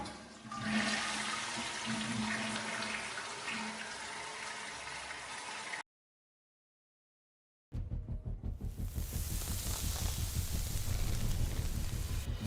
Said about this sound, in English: But trust me, Elon, this flush is going to make America great again.